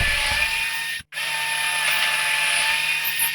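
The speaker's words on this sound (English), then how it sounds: "Now to drill some holes and put some big bolts in." A power drill whines loudly and continuously, drilling holes in wood for big bolts, cutting out for a moment before spinning up again.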